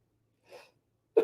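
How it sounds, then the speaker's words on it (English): A single sharp sneeze, preceded by a brief soft intake of breath, close and otherwise quiet. "I got to sneeze"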